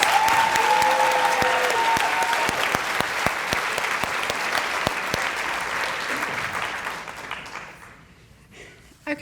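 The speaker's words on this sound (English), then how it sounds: "Let's give them all another round of applause." An audience applauds at a Teacher of the Year reception, with dense, steady clapping that thins and fades out over several seconds until only a few last claps remain.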